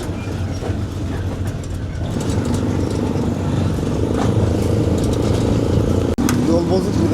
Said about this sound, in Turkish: Böyle üstü açık tuk-tuklar var burada. Onunla şu anda gidiyoruz.